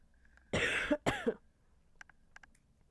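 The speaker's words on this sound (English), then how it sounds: "Excuse me if I cough. I have allergies going on." Two quick, harsh coughs close by, followed by a few faint clicks and taps in an otherwise quiet room.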